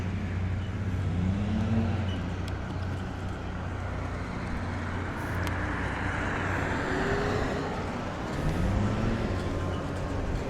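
A Qronge Lava electric trike rolls along on pedal assist level 1, giving a steady, broad hum of wind and road noise with faint rising motor whines, moderately loud and continuous.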